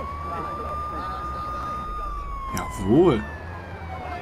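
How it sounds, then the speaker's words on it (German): A wailing ambulance siren in the video game Watch Dogs, sounding continuously from the vehicle being ridden, steady and fairly loud beneath a brief spoken word and a rising engine or horn burst near the end. "wir machen hier Krankenwagenreiten"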